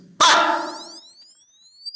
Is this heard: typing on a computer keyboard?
no